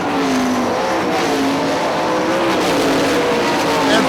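Sprint race car at Hartford Speedway powering into a turn, its engine a loud, sustained snarl with shifting pitch, close and continuous throughout, with other cars' engine noise blended in.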